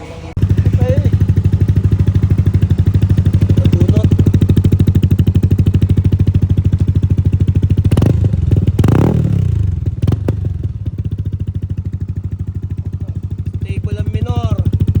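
A superstock motorcycle engine idles loud and close in a steady, rapid putter, with a sharp revving burst in the middle before it settles back to a rough idle, heard alone.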